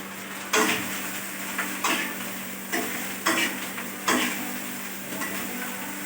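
Cooked rice stir-fried in a kadai for hotel-style fried rice, a steady sizzle broken by about five sharp scrapes and stirs of the spatula at regular intervals, no voices.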